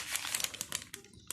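Baking paper crinkles and crackles as sablé biscuit dough is rolled out on it, a close, dense run of sharp rustling snaps with no one talking.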